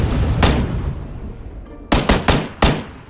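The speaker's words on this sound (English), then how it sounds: "I'm getting shot at. Oh, shit. You got me somehow. He's on the right, he has an SKS." SKS rifle fire in the video game PUBG: one sharp shot, then a quick cluster of three more after a short pause and a final crack, loud and close with no talk.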